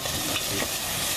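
Food being stirred in a pot during cooking of a Japanese soba health dish, a short, close burst of soft scraping and bubbling sizzle with no talk.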